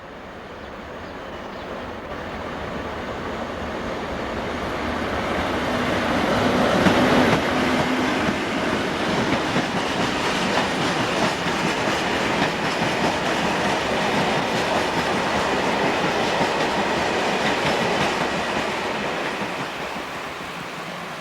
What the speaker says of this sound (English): that's the China Clay slurry and calcium carbonate slurry train serving 2 paper mills